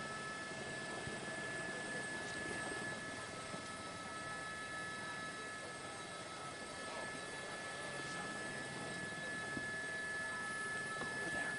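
A steady, droning police helicopter rotor hum fills the air continuously during a car chase, moderately distant and unchanging, with no voices.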